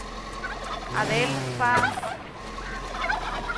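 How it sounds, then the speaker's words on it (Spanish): A Bourbon turkey in the farming video game Farm Together lets out one loud, rattling gobble midway, close and clear over quiet game ambience, with a single spoken word just before it. "Pavo borbón."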